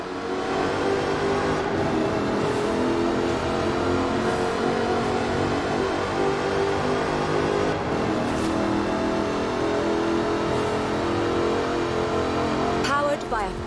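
A supercharged 5-litre V8 with an all-aluminium body in Forza Horizon 4 holds a steady, loud engine drone with slight shifts in pitch, under a voice talking throughout.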